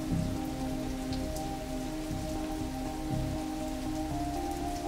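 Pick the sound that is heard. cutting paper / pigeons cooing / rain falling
rain falling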